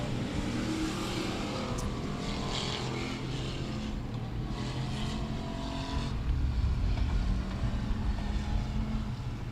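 Modified race cars roar around a dirt track during a heat race, a continuous loud engine drone from the passing pack with rising and falling revs and no clear voices over it.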